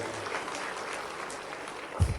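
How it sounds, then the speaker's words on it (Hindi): Brief, faint applause from a gathered crowd at a political event in Madhya Pradesh, lasting about two seconds at a low, even level. "जोरदार ताली बजा दो"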